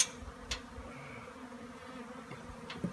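An aggressive wild Arizona bee buzzes while trying to sting through a protective net, a faint, steady insect drone with a few brief louder bursts close by.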